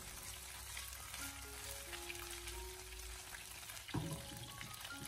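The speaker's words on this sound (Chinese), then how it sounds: "然后再将腌制好的鱼块给它一块一块的分散的放进锅里面，给它煎制一下" Marinated fish pieces pan-fry over low heat in a wok, making a faint, even crackling sizzle throughout. A single soft knock sounds near the end.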